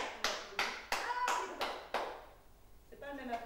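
A person demonstrates hand clapping with five sharp, evenly spaced claps, followed by a pause and then a voice speaking quietly in a room.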